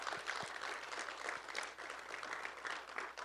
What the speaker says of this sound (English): please, with a round of applause, let us welcome Reverend Lemon Atkins